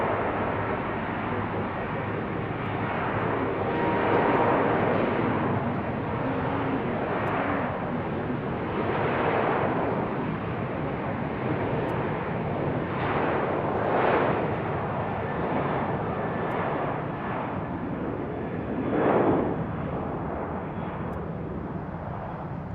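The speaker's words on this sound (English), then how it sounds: "Ready for American Airlines headed back to DFW. The 737-800," American Airlines Boeing 737-800 jet airliner at BWI airport, a loud sustained engine roar that swells and fades in slow waves throughout.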